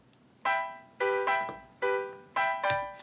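A processed Yamaha Grand pop piano sample plays minor chords in a steady, bright pattern of six struck chords, each decaying briefly before the next, with no voices.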